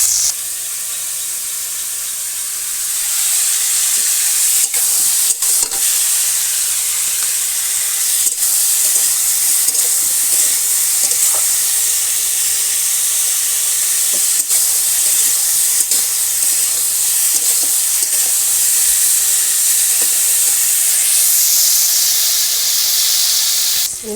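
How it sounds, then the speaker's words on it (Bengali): Cauliflower frying in hot oil in a village kitchen gives a steady, loud hiss and sizzle that runs almost unbroken, with small crackles scattered through it and no talking. "এখন আমি ফুলকপিটা ভেজে নেবো।"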